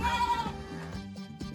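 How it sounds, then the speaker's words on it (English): A sheep bleats in a children's animal lesson, giving a short wavering cry at the start, followed by soft background music. "here is a sheep."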